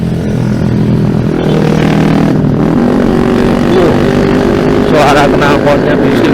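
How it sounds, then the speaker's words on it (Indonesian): A motorcycle with a noisy exhaust rumbles steadily close by on a road near a market in Tengaran, its drone continuous throughout alongside other traffic. "Suara knalpotnya bising ya."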